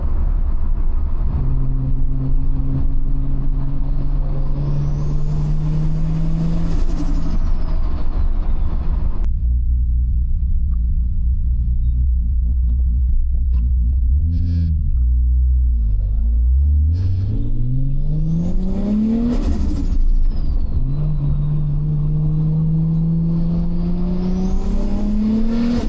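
A big-turbo right-hand-drive Toyota Supra engine drones steadily while driving at low boost, its pitch rising and falling through gear changes with a deep rumble throughout, loud and close, with no talk.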